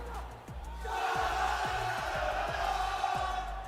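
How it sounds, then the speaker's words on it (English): At the Fortnite FNCS 2023 Global Championship, a crowd roars and cheers continuously, loud and close, with a rhythmic thumping beat underneath. "we've certainly got some of the crowd going"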